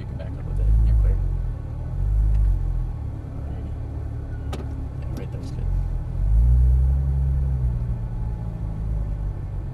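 Porsche 997 Turbo S backing up slowly at a Las Vegas exotic car track, its engine giving low rumbling swells of revs between idle, with clicks and a faint mechanical whine; a voice speaks intermittently nearby.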